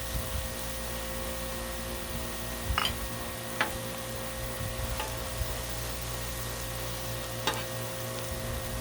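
Thawed shrimp frying in butter on a Blackstone griddle make a steady, low sizzle with a few faint ticks and pops, heard alone at moderate distance.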